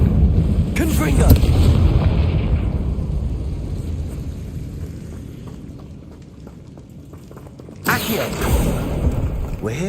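A Confringo fire spell in Hogwarts Legacy goes off with a loud booming burst and rolling rumble that slowly fades, then a second sharp blast hits near the end.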